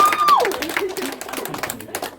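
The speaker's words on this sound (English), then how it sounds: "Round of applause" A tour-group audience at the Mystery Spot in Santa Cruz applauds with a scattered, crackling patter of clapping. It sits under people talking and a brief high whistle-like tone.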